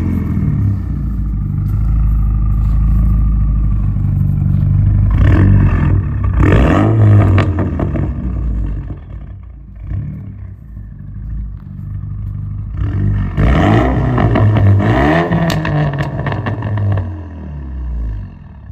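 A Renault Mégane 2 RS engine starts and settles into a rumbling idle, then is revved twice in loud rising bursts that fall back to a steady idle.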